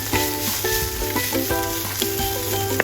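Dry chilies frying in hot oil give a steady, close crackling sizzle, with a faint tonal hum and soft stirring clinks running underneath.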